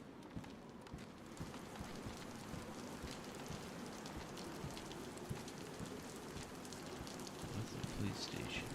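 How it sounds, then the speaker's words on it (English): Steady rain falls in the DayZ survival game on the Chernarus map, a soft continuous hiss of drops on surfaces lasting the whole stretch, fairly quiet and even with no one speaking. "Oh, it's raining."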